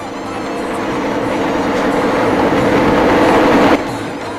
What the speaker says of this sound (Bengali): ঠিক সেই সময় ট্রেনটি তার সর্বোচ্চ স্পিড ধারণ করল।